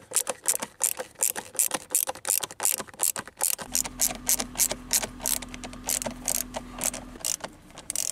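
A ratchet tightens bolts on a Ford Fiesta blend door actuator, producing a rapid, continuous stream of close metallic clicks, with a low hum beneath during part of it.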